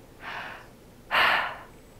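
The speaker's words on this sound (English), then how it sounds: "take a deep breath." A person takes a deep, audible breath in, preceded by a softer breath, close and clear with no other sound.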